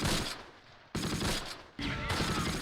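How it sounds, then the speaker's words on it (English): A .30 cal machine gun fires in the video game Close Combat, sounding as loud, dense bursts of automatic fire broken by short pauses. "30 cal machine gun"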